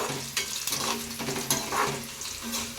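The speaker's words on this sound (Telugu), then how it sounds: "ఈ తాలింపు మంచిగా వేగింది" Tempering spices with dried red chillies and curry leaves crackle and sizzle in hot oil, with scattered spatters and a few stirring scrapes, close by and without talk.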